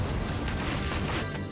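Mortar fire in Valkyria Chronicles 4, a dense continuous roar of blasts and crashing debris, loud and close throughout with no voices.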